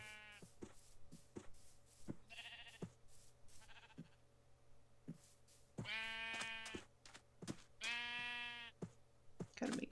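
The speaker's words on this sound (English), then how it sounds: "Hello, little sheep." Blocky sheep in Minecraft bleat in a string of distinct calls, several short baas and a couple of longer, louder wavering bleats, set apart by sharp clicks and soft game ambience.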